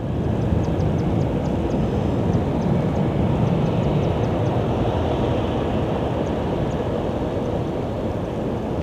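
Airplane at Sky Harbor airport, a loud, steady broadband jet roar that holds for the whole stretch, with no talk over it.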